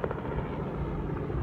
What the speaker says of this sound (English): That's a special chopper.